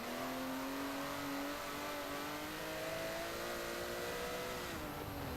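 A Porsche Cup race car accelerates through the first turn of a circuit race, its engine note rising in pitch and sustaining a steady, droning whine at moderate distance.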